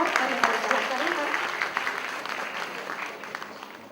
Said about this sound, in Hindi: जोरदार तालियों से स्वागत करें मंच पर आ चुके और आने वाले कलाकारों का